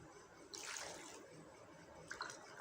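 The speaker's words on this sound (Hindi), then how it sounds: "अब इसके अंदर आप डालेंगे पानी।" Water pours into a cooking pot while a traditional Peshawari dum pukht meat dish is prepared, as a steady rushing splash near the mic with a second brief burst of pouring near the end.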